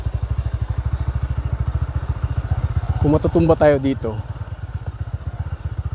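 A motorcycle chugs along a rough road near Sitio Macaingalan, Barangay Puray, its engine thumping in a fast, even pulse close by, while a rider talks briefly over it midway.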